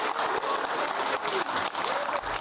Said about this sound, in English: Please, a round of applause for the barrister, Stephen Barrett